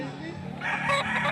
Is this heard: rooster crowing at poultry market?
yes